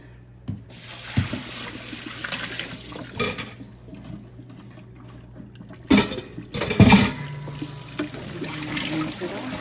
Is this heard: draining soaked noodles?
yes